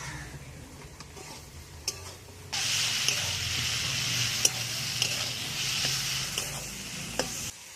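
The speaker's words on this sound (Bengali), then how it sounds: "আর বেগুনটাও ভেজে নেব।" Eggplant hits hot spiced fish oil and breaks into a loud, steady sizzle after a quiet start, with occasional clicks of stirring against the pan.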